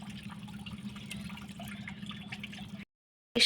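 Water runs from a tap in a steady, soft rush while a child plays with the flow, then cuts off abruptly before a short splash at the end.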